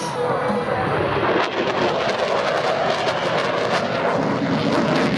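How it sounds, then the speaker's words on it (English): A fighter jet makes a high-speed pass at an airshow in Australia, a loud, continuous roar that fills the whole stretch without breaks, and no voices are heard. "Here's the high-speed pass."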